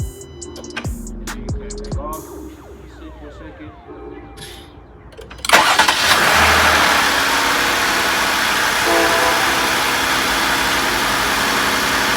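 A 2020 Jeep Grand Cherokee L V6, fitted with an 80mm throttle body adapter, turns over with a few clicks and cranks, then fires and settles into a loud, steady idle close by.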